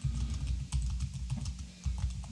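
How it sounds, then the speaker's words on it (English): Close computer keyboard typing, a quick run of soft key clicks in uneven bursts over a low background hum, with no voices. "are you typing on purpose, or are you just typing?"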